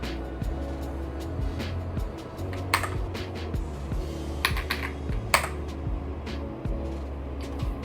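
Steady, brisk typing on an AULA F99 Pro mechanical keyboard, with dense clacky keystrokes, a few louder strikes standing out, and no voices.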